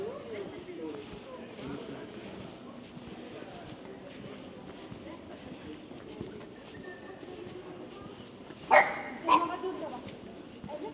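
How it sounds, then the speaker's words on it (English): Another dog barks on a street in the old town of Dole, France, a couple of sharp barks near the end standing out above quiet street ambience and low murmuring voices. "She's another dog, I think."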